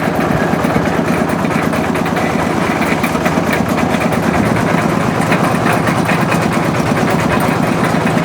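The engine of a well drilling machine runs at a steady, loud, rapidly pulsing idle, a close continuous chug and rattle with no pauses or talking.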